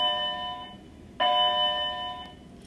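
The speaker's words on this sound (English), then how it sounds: "Excuse the sound of the bell." An electronic doorbell chimes twice, loud and close: a sustained bright tone followed by a second, stronger ding that rings on and slowly fades, with no talking over it.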